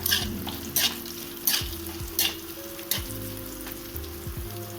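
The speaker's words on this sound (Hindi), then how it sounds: "तो चलिए पहले डाल देते हैं गाजर। थोड़ी देर गाजर को कर लेते हैं फ्राई।" Carrots frying in a kadhai for a Kolkata street-style kathi roll, with a steady hiss under a regular run of five or six sharp scraping stirs from a spatula.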